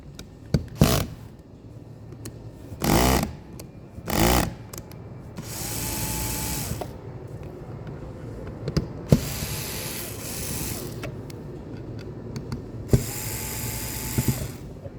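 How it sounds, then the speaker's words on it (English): A power drill whirs in several short bursts and longer runs, with clicking and ratcheting between them as screws are driven out up close from a HydraGo Unified. "Using my drill, I'm going to start with these 3 screws."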